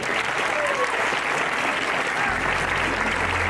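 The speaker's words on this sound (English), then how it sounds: "I want you guys to give yourselves a round of applause." Loud, continuous applause from an audience at a homecoming Mass, a thick, even wash of clapping with faint voices mixed in and a low hum entering partway through.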